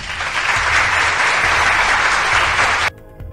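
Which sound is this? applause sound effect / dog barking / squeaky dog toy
applause sound effect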